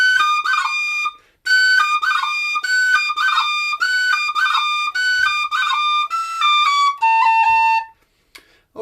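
Tin whistle plays the A part of Catherine's Mazurka as a clear, bright, steady melody of sustained notes with a short pause early on, heard alone without voices.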